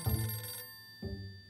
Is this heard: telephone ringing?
yes